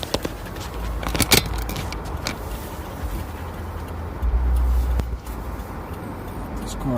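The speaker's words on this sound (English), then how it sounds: "These cars go by. Busy road here today." Cars pass by on a busy stretch of Route 156 around Niantic and Old Lyme, Connecticut, heard as a couple of low rumbling swells that build and fade, with lighter road noise between them.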